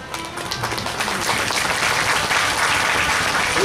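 An audience applauding at a Bhagwat Katha in Kahalgaon, a dense, steady wash of clapping that builds slightly and stays loud throughout.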